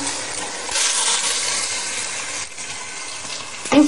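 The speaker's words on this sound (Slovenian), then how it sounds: "In hitro dodaš 700 ml vode." Water pouring into a cooking pot during preparation of Slovenian vegan jota, a steady close gushing splash that runs for several seconds and ends with a clink.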